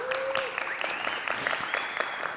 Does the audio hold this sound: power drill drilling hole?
no